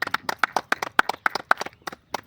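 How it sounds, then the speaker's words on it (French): A handful of people clap close by in a loose, uneven rhythm of sharp individual claps that trail off quickly. "Applaudissements pour parrain."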